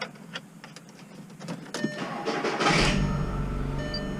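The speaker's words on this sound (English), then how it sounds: "you start your car" A Volkswagen Jetta 2.0 cranks after a few clicks and knocks, its engine catching and settling into a loud, steady idle close by.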